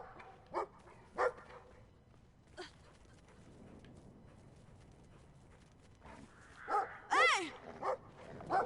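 Dog barking in the video game Brothers: a few sharp, separate barks early on, then a louder, denser cluster of barks and yips near the end, over quiet game ambience.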